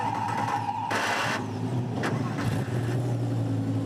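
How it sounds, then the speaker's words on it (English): Lamborghini Super Trofeo race cars fire up their engines together at the Nürburgring before a 50-minute race, a loud sustained drone of several motors with rising revs and bursts layered throughout. "Engines all fire up."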